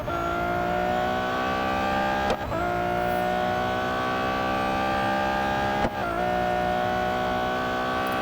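A Ferrari LaFerrari in the Real Racing 3 game runs at a sustained high engine whine with layered tones, broken by two brief downshift blips as it brakes toward the far-end Mulsanne corner.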